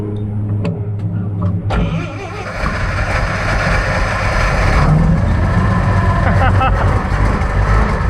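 A junkyard Lull forklift engine catches after a restart, sputtering at first and then settling into a loud, rough, steady running rumble close by.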